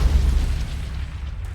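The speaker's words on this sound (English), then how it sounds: "that gives you a glimpse of the horror of undergoing some of these artillery barrages that took place." Artillery barrage explosions from a war film trailer rumble as a deep, heavy boom that rolls and fades over a second or so, loud at first and then decaying into low rumble.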